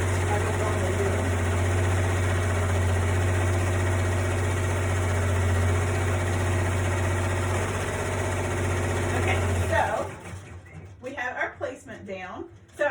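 An embroidery machine stitching sequin flip fabric at full speed gives a loud, steady mechanical hum with a continuous vibrating drone for about ten seconds. Then it stops and quieter handling sounds follow.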